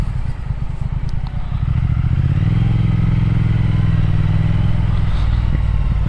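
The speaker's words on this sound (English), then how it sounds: "You can actually pull that the throttle quite a lot" A Triumph Speed Twin 1200 motorcycle accelerates under a twisted throttle, its loud, close engine note rising and settling into a smooth, steady drone alongside rushing wind.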